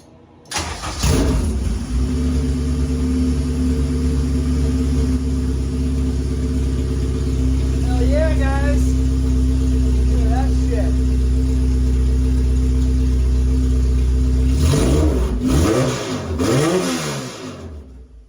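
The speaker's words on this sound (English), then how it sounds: "now I can show you that it does run" A K-series swapped supercar engine cranks and fires, then runs steadily at a loud close idle with several throttle blips rising in pitch, before revving harder and settling again near the end; voices speak briefly over it.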